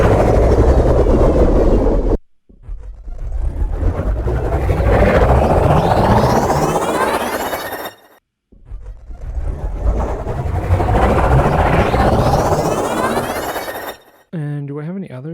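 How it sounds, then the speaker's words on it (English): Futuristic jet whoosh start-and-stop effects, the third whoosh type in a set of futuristic vehicle sounds: two loud, swelling whooshes with rising tones, each ending abruptly in silence, then a brief, warbling tonal tail. "So these are the start stops for Jet Whoosh 3."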